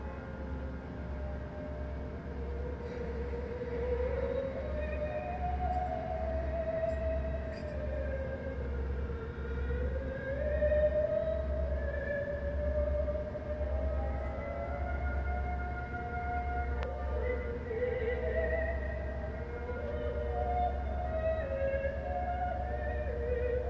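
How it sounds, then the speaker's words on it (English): A train rolls past in the distance, a steady low rumble with long drawn-out horn-like tones drifting up and down over it. "serendipitously the train is moving on across the street"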